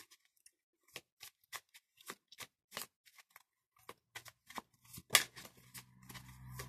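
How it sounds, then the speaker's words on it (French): Tarot cards being shuffled by hand produce a quiet run of crisp, uneven flicks and taps, with a faint rustle toward the end. "je brasse les cartes"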